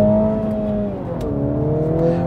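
A 2023 Mini John Cooper Works with a manual gearbox pulls away from a stop, its engine loud and close, revving upward, dipping briefly at a gear change, then climbing again.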